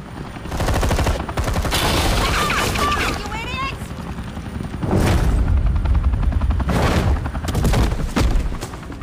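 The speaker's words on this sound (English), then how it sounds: "You cops can't just shoot people like that!" Rapid police gunfire in Batman: The Telltale Series, Episode 5 Same Stitch, ringing out in sharp bursts amid a busy game scene with helicopter-like rumble and people talking.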